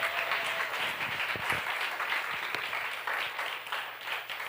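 An audience in a church hall applauds in a warm, steady burst of many hands, moderately distant and continuous, with no talking.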